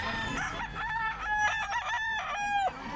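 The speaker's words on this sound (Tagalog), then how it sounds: "Kirek-kirek yung manok ni Bostone." A bullstag gamecock crows close by at a Philippine pet market, one long loud cock-a-doodle-doo over steady background crowd noise.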